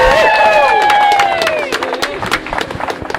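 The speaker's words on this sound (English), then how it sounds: "Please toss your flower petals and cheer for the couple, the new couple, as they walk down the aisle." Wedding guests cheering and applauding a newly married couple walking down the aisle at a garden ceremony, with whoops and clapping over crowd babble that thins out toward the end.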